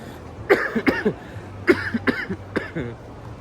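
Someone coughs repeatedly up close, several harsh bursts in quick succession with brief pauses between them.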